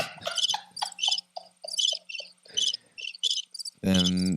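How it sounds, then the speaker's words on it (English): Crickets chirp in a rapid series of short, bright pulses, loud and close, used as a sound effect; a sharp burst of a different squealing tone cuts in at the end. "you just get the crickets."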